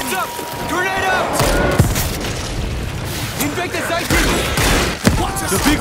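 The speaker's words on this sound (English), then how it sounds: "Heads up! Grenade out!" Chaotic battle in World War Z: overlapping gunfire bursts and a couple of deep grenade booms, with game voices shouting over the din.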